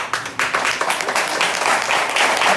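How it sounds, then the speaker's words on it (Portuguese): A church congregation breaks into a short burst of clapping, a close, brisk round of applause lasting a couple of seconds. "Você pode dar um lindo aplauso a Deus."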